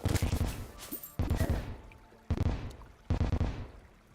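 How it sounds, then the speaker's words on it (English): Four separate booming explosions in Minecraft go off roughly a second apart, each a loud, close burst that fades with a crackling tail. "So many explosions."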